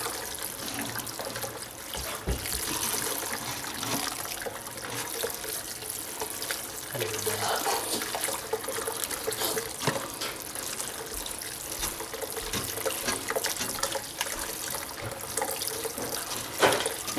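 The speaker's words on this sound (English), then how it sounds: "Who's running water?" Water runs steadily from a kitchen tap, a constant hissing splash that holds at an even level throughout, close and alone with no talk.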